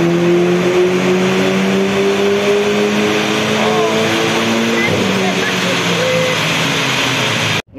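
Renault Mégane RS engine running on a dyno, a loud sustained drone with rising pitch as it revs, steady throughout and cut off abruptly at the end.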